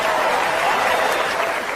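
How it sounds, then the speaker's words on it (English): A stand-up comedy audience claps as a dense, even wash of applause that holds steady and loud for nearly two seconds, with no voice over it. "Some of you are clapping"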